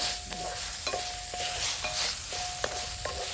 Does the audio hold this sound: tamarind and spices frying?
yes